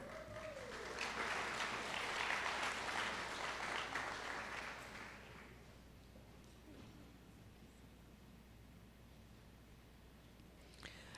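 Audience applause for campus Faculty Senate leaders at a college fall convocation, a broad wash of many hands clapping that fills the hall for about five seconds, then fades into quieter room noise with a brief murmur.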